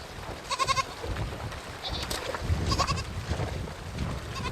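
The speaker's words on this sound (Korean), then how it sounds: "겁에 질린 새끼 염소 한 마리가 남았습니다" A frightened baby goat bleats a few times, wavering cries over rushing river water and wind, during a Mongolian nomad herd's river crossing.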